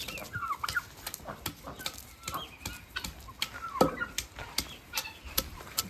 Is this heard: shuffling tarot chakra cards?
no